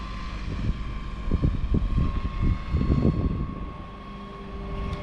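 RC model helicopter rotors whir and thrum steadily at an RC airplane event, a low rhythmic droning chop at moderate distance over outdoor background noise.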